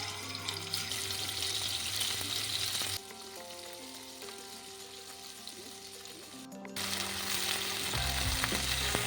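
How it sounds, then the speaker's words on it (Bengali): Salted, peppered boneless chicken pieces fry in oil in a wok, a loud close crackling sizzle that drops to a quieter bubbling with a faint musical background before surging back loud. "কড়াই তেল দিচ্ছি চিকেনগুলো ভাজার জন্যে"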